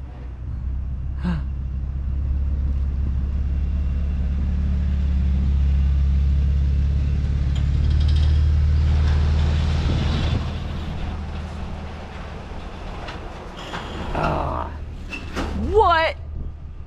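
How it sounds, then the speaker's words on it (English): A car engine and exhaust rumble deeply and steadily, swelling louder in the middle before easing off, with people talking over and after it. "That exhaust is amazing. Can't wait to hear it."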